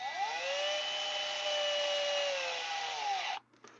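A cordless power drill drives a screw in one sustained whine that rises, holds and winds down before stopping, followed by a couple of short bursts, close and alone.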